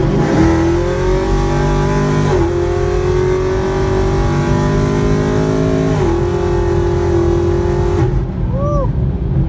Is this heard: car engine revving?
yes